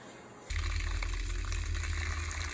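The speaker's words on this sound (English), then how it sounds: "Rinse it out!" Water gushes steadily into a paint container being rinsed out on a porch project, starting abruptly after a brief quiet moment and continuing as a loud, close, splashing flow.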